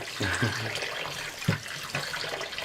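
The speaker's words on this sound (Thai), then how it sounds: "เห็นไหมน้ำขาวคือน้ำแป้งนั่นเลย เราต้องทำอย่างนี้ทำจน จนให้น้ำแป้งขาวๆออกไปให้หมด" Running water pours over dough as the starch is rinsed out to leave gluten for a vegetarian pork-style filling, a steady broadband wash with faint voice traces underneath.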